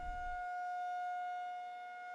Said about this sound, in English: You hear a very loud siren echoing